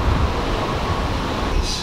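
A train rumbles past with a steady, loud, broadband roar and low-end rumble throughout, with no voices.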